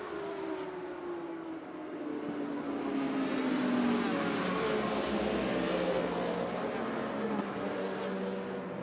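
Racing motorcycles run the sighting lap at the 2023 Macau Motorcycle Grand Prix, 55th edition, with a steady engine drone whose pitch slowly sweeps and rises as the bikes accelerate, carrying alone without talk.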